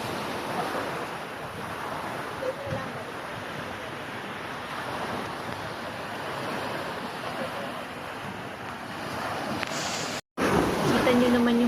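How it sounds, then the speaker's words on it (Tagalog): Surf breaking and washing along the shore of Entalula island in El Nido, a steady broad roar with wind buffeting the microphone throughout and a brief dropout near the end. "Kita nyo naman yung hampas ng alon, diba?"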